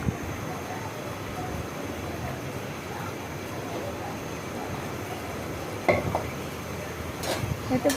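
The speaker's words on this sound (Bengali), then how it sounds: "ভালো করে একটু লাড়াচাড়া দিচ্ছি বন্ধুরা।" Rui fish curry stirred in a pot produces a steady bubbling, scraping background. A few brief utensil clinks rise near the end.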